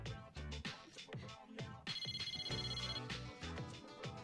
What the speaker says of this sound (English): Mitsuru received an incoming call on her phone.